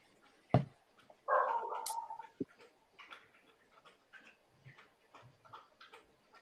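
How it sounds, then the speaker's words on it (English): A pet dog laps water indoors with a quiet, irregular series of soft wet laps and ticks, following a louder clatter and a short burst of noise near the start. "that's my dog drinking water"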